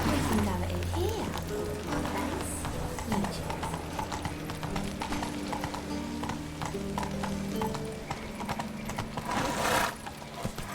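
Roach, the horse in The Witcher 3, galloping with continuous thudding clip-clop hoofbeats over game music and ambience, with a brief whinny and no speech.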